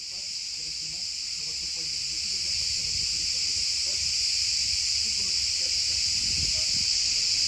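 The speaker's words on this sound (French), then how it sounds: "il y a combien de cigales en fait? Écoutez" A chorus of summer cicadas buzzes in a loud, continuous, high-pitched drone that swells gradually, with faint movement and murmurs far beneath it.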